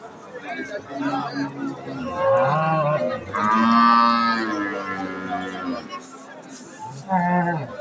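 Near and loud, a Friesian cow at a livestock market moos in long drawn calls, with a shorter low moo to close, over a steady crowd murmur and people chattering nearby.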